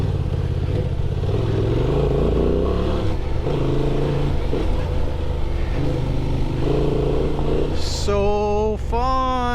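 A 2024 Honda Transalp XL 750 motorcycle rides close and loud through desert terrain. Its engine steps down through gears in smooth stages without clutch use, then a few sharp rising revs stand out at the end.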